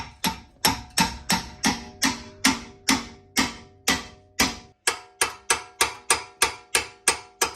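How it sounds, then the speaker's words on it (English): A hammer drives a chisel against an Audi A4 upper control arm in a sharp, metallic series of about twenty strikes at a steady, quick rhythm, each ringing out briefly, close and loud with a short pause midway. "Now we're just chiseling it from the bottom hole right there so that it'll hopefully just pop out."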